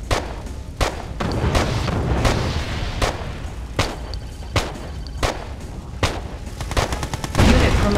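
Heavy naval guns of a game warship fire about ten times in a steady, roughly evenly spaced series, each shot a loud, sharp boom with a short rumbling tail, with no talking.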